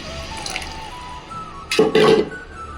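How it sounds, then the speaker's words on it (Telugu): Water poured into a pot of tomato vegetable masala sambar makes a short, splashy gush lasting about half a second, with faint drips and kitchen sounds before it. "ఇప్పుడు మనం వాటర్ యాడ్ చేసుకుందాం"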